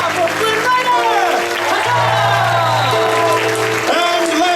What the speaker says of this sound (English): one round of applause for Princess Rapunzel!